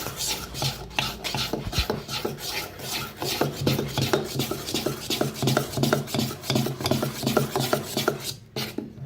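Appe batter with salt and Eno added is stirred briskly in a bowl, a rapid run of rhythmic rasping, scraping strokes, close and fairly loud throughout with no talking.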